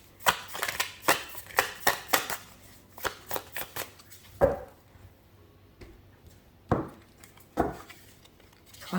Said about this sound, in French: Une carte se retourne.